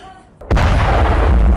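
A Hamas rocket strikes the sea at Haifa port, setting off a sudden, very loud boom that bursts out of near quiet and rolls on as a heavy, sustained roar.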